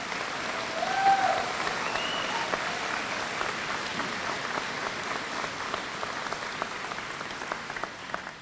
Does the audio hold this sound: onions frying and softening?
no